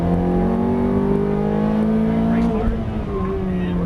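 A Ferrari F430 on a racetrack accelerates hard, its engine note climbing steadily in a loud, close, harmonic-rich howl before easing briefly, with an instructor's voice heard over it.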